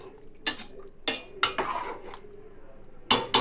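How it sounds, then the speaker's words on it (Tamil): A spoon stirring prawn curry in a metal pot, producing a string of loud close scrapes and clinks in an irregular rhythm, with a pair of sharp knocks at the end. "எல்லாமே ஒன்று சேர்ந்து வர அளவுக்கு கலந்து விடுறேன்"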